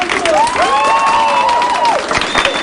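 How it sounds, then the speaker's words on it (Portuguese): Students of a school arts program applaud and cheer at an event in a park, a dense wash of clapping with shouts and a rising whoop over the crowd, close and loud throughout. "Uma salva de palmas"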